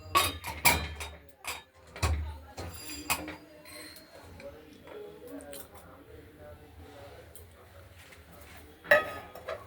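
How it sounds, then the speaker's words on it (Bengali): Metal lid being fitted onto a pressure cooker used for moong dal with bottle gourd, giving several sharp clanks and clinks at the start and a final clatter near the end, with a person talking in between. "এবার ঢাকনাটা লাগিয়ে দেবো।"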